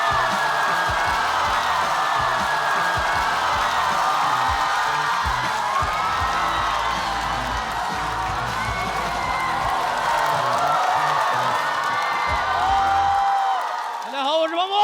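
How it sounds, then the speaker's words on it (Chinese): A studio audience at a Chinese stand-up comedy contest cheers, whoops and claps steadily to welcome comedian Pang Bo onstage, a loud sustained roar lasting over ten seconds before cutting off. "掌声有请庞博。"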